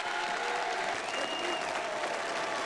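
A TV studio audience applauds Phil Collins, dense and steady clapping heard from a short distance without breaks, with faint voices beneath.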